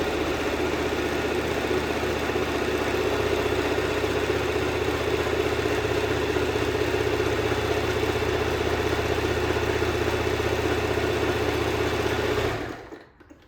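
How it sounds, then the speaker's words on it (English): A sewing machine stitches pillowcase fabric in one continuous, fast, even whir with a rapid mechanical chatter, close and steady, stopping abruptly at the end with no voices. "Start sewing again."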